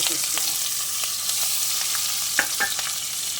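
Chopped onions and green chillies frying in hot oil for a simple pappu charu, a steady broadband sizzle with a few light stirring scrapes near the middle, close and continuous with no talking.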